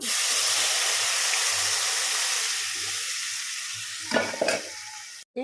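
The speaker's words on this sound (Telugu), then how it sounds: "ఇప్పుడైతే పప్పు పోసేస్తున్నా" Cooked dal with turmeric poured into a hot pan, a steady broad sizzling hiss that slowly eases, with a couple of brief spoon scrapes near the end, close and without talk.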